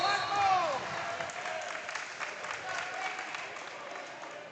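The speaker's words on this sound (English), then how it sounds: "The crowd's not huge, but they're doing a pretty good job here tonight" Applause and cheering from a modest crowd in a high school basketball gym, a broad wash of clapping that swells briefly at the start and then holds steady, with an announcer's voice talking over it.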